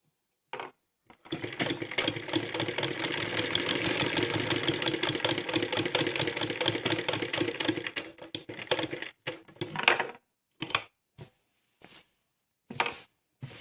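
A sewing machine stitches fabric for a fancy blouse back design, running in a long, steady, close rattling burst and then in a few short start-stop bursts, with no talking.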